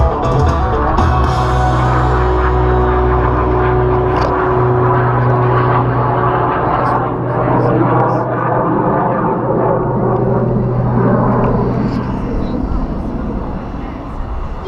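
A Yak 110 aerobatic aircraft makes its last pass at the Gunfighter Skies airshow at Mountain Home, a loud, steady engine drone with harmonic tones held through the whole stretch, layered with crowd and PA noise.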